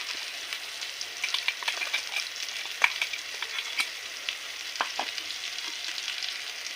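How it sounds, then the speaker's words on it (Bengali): Taro leaf paste sizzling and frying in a pan with onions, a steady crackling hiss with scattered pops and occasional stirring scrapes, close and fairly loud throughout. "পেঁয়াজটা ভাজা ভাজা হয়ে গেছে, এবার কচু পাতাটা দেব। কচু পাতা বাটাটা দিয়ে দেব।"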